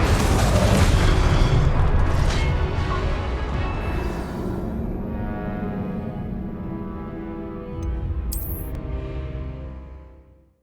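An Incendio fire spell from the Hogwarts Legacy PC game lets out a deep, booming blast that rumbles strongly at first, tails off over several seconds, then swells once more before fading out, with no voices.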